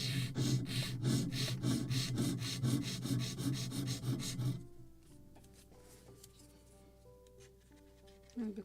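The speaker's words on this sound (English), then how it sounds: "One more sanding and a little different angle." A wooden plank on a model ship of the 1776 gunboat Philadelphia is sanded by hand with rapid, rhythmic back-and-forth rubbing strokes, close and scratchy. The sanding stops halfway through, leaving quiet light handling taps and clicks.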